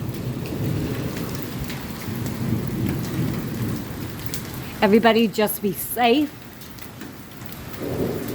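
An old-fashioned Midwest thunderstorm brings steady rain and hail drumming down under rolling low thunder, and a person speaks briefly partway through.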